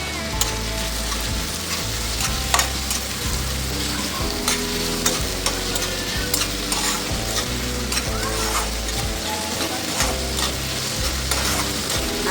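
Ginger garlic paste sautéing in a pan, a continuous close sizzle with repeated scraping strokes of a spoon and a low rhythmic hum underneath.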